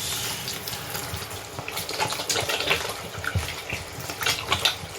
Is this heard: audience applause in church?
no